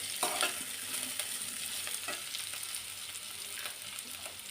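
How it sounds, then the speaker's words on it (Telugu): Onions frying and being stirred in a pan make a steady sizzle with intermittent spatula scrapes, close up and moderately loud with no talk. "ఇవి కూడా బాగా ఫ్రై చేసుకోవాలి."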